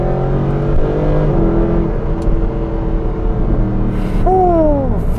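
A Mercedes SLS sports car engine drones steadily, its pitch rising and falling, then climbs sharply in a quick rev toward the end, loud and close.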